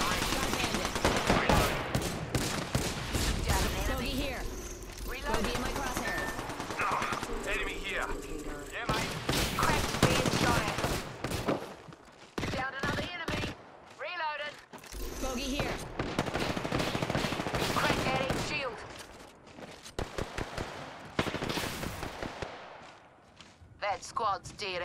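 Shooter video game gunfire, sustained bursts of rapid automatic weapon fire with scattered single shots and thuds, loud and dense throughout, with a player talking over it.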